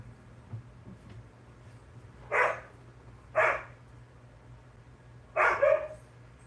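A dog barks three times at spaced intervals, the last bark doubled, each short and moderately loud over a steady low hum with no talking.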